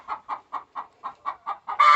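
Hens in a coop cluck in a steady series of about eight short, evenly spaced clucks, ending in a louder, longer squawk close by.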